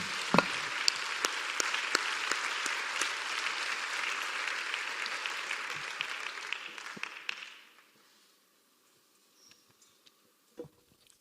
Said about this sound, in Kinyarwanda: dukomera Imana amashyi menshi cyane